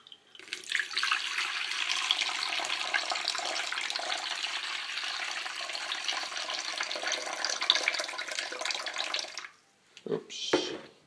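Kitchen tap running steadily for measuring water into rye bread dough, a loud continuous rushing stream that lasts several seconds, then cuts off, followed by brief handling noises.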